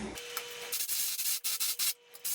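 A power drill drives a screw into the floor while an Ikea Sektion kitchen island is mounted, giving rough grinding whirs in several short bursts with brief gaps and no talk.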